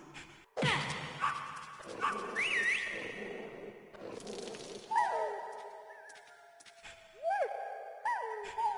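Dogs in the video game Metal Gear Solid, a string of synthetic-sounding barks and yelps in clusters, some loud and close, with gaps of quiet between them.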